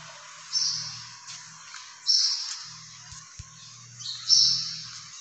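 A small bird gives three short, high chirps spaced about two seconds apart, each clear and fairly close, with quiet pauses and a faint low hum between them.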